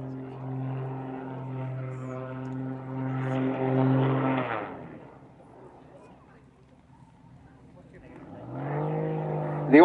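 A Zivko Edge 540 aerobatic plane rolls and tail slides overhead, its propeller engine droning loud and steady, fading away mid-flight and then surging back with a rising pitch.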